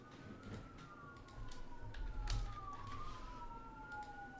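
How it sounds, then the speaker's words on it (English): A police siren wails outside, faint and distant, its tone sliding slowly up and down over a low rumble of background noise. "Police siren outside."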